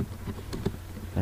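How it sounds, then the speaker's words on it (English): Typing on a computer keyboard in Windows help and support, a few quick close key taps in a short burst over a faint background hum. "you can also type on control panel"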